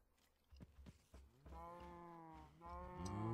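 Cattle lowing in the Agrarian Skies modpack game: a few short knocks, then sustained harmonic moos that rise and swell, loud and close, with one cow call overlapping the next.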